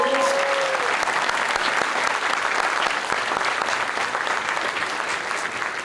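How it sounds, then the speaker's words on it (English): An audience at a Star Wars publishing panel at San Diego Comic-Con 2025 breaks into loud, sustained applause and clapping that carries on steadily for several seconds. "Give her a round of applause."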